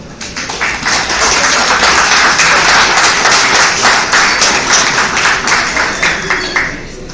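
A lecture hall audience at the Universidad Nacional del Callao gives a visiting doctor a loud, sustained round of applause. The dense clapping lasts several seconds before slowly thinning out.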